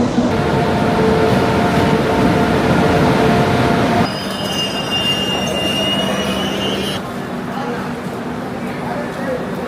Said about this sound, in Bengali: ট্রেন কিন্তু ছেড়ে দিয়েছে